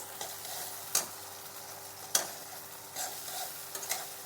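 Green peas being lightly fried in a pan for a bottle gourd and prawn curry, heard as quiet, intermittent scraping stirs over a faint sizzle with a few sharper utensil knocks.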